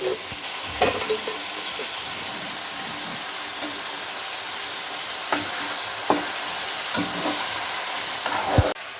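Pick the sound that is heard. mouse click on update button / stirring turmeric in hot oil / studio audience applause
stirring turmeric in hot oil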